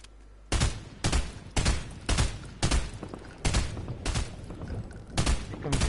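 Repeated bursts of gunfire in a PS4 shooter game, about seven sharp loud volleys spaced roughly every second, each blast ringing out over a steady low background rumble.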